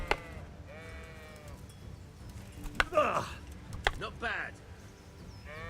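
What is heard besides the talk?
sheep bleating in video game Kingdom Come: Deliverance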